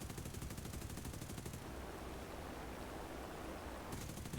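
Aircraft machine-gun fire in a B-24 bomber combat video game: a steady, dense roar of rapid gunfire that holds at an even loudness throughout, with no pauses and no voices.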